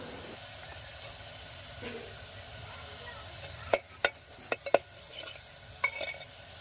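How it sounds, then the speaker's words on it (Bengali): Vegetable dal being stirred in a pan after salt and turmeric go in, giving a soft steady sizzle with several sharp scraping clinks of a spoon against the pan near the end. "আবার দুবার ভালো করে নেড়ে চেড়ে নেবো"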